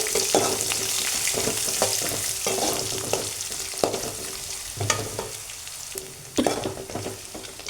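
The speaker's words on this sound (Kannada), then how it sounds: "ಉಳ್ಳಾಗಡ್ಡಿನ ಚೆನ್ನಾಗಿ ಹುರ್ಕೋಬೇಕು" Onions frying in a pan for tomato chitranna, a continuous close sizzle broken by repeated scrapes and knocks of a stirring spoon against the pan.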